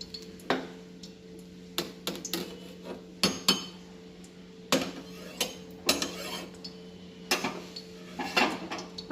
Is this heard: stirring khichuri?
yes